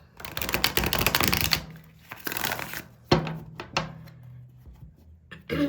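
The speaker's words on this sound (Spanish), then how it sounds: "Voy a barajar estas cartas" Tarot cards being shuffled close up, a dense riffling burst followed by shorter flicks and taps of the deck, with no voices.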